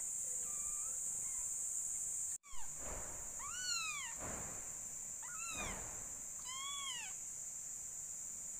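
A hungry cat meows about four times in rising-and-falling cries, close and clear, with a sharp thump just before the first and faint insect-like chirping in the background.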